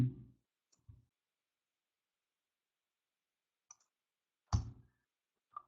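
Mouse clicks on a computer, a few sharp isolated clicks spread across several seconds of near silence, with a brief low thump at the start.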